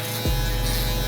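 Electric shaver running against the direction of hair growth on a beard during a barbershop drop-fade cut; a steady, close, continuous buzz starts abruptly and holds for about a second.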